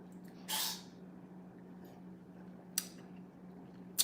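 A single sharp sneeze bursts out near the start, followed by a couple of brief clicks against a quiet room with a steady low hum.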